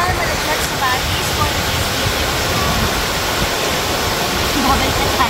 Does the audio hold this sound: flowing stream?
yes